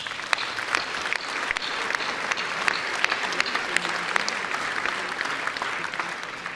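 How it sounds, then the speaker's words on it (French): An audience applauds neighbourhood councillors at a New Year's greetings ceremony, with steady, moderately loud clapping and some sharper individual claps standing out throughout. "Je vous demande de les applaudir très fort."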